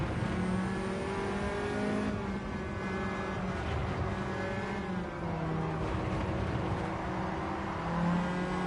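Race car engine on an out lap at Suzuka in Gran Turismo 7, a steady, moderately loud drone with pitch rising and falling through gear changes, running continuously with no talking.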